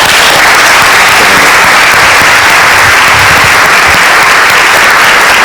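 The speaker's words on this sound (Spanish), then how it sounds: "un aplauso" Loud, dense audience applause at a management seminar, a sustained roar of many hands clapping close and continuous throughout, with no talk over it.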